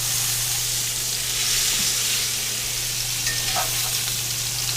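Lamb chops sizzle in a hot cast iron pan with a steady, close, loud frying hiss and faint crackles.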